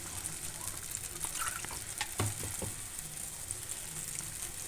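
Water is poured into a simmering cucumber shukto curry in a pan, giving soft, quiet splashing over a gentle sizzle, heard close and alone.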